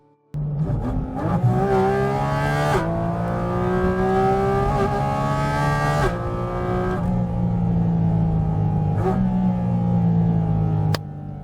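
A Porsche GT4 RS engine pulls hard through the gears on a drive, a loud, continuous rising howl with distinct shift breaks, then settles to a steady cruise before cutting off abruptly.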